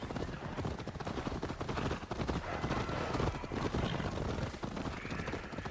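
A horse in the video game Assassin's Creed Valhalla trots with continuous clip-clopping hooves, moderately loud and close, and a whinny or neigh mixes in over the busy game soundscape.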